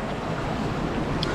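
A river and waterfall flowing beside a campsite in Ireland, a dense, steady roar of rushing water close by with no pauses.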